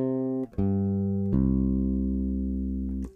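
Electric bass with the front pickup turned down plays a few sustained notes, each plucked cleanly and left ringing, close and fairly quiet with no talking.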